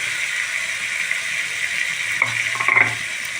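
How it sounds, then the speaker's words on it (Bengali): Fried potatoes tipped into spice masala frying in a pan, a steady oily sizzle that swells with a short burst of clattering and stirring near the end, close and alone without talk. "এবার দিয়ে দেবো আমি ভাজা আলু।"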